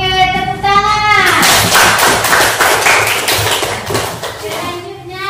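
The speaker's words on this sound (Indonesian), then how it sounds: "Oke, tepuk tangan" Students in a madrasah classroom clap together in a quick burst of close, sharp handclaps that lasts a few seconds and then thins out, with voices of the teacher and children around it.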